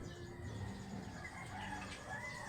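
A pet chicken clucking softly at a distance outdoors, faint low calls mixed with other bird sounds over a quiet background, with no speech.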